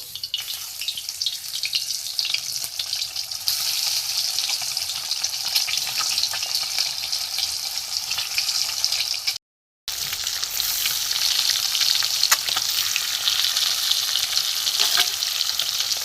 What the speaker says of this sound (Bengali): এখানে দেখুন হাফ করে ডিম আমি নুন আর হলুদ মেখে রেখে দিয়েছি, এগুলো আমি ভেজে নেব।